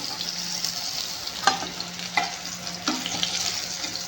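Fish frying in oil in a pan gives a steady, close sizzle with a few sharp crackles and pops spaced through it.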